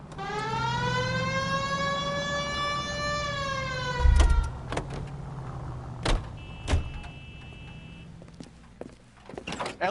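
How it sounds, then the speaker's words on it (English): A police car siren in the L.A. Noire video game winds up in rising, steady tones and cuts off, followed by sharp thuds and clunks like car doors, with a low engine rumble underneath. "Hit the siren."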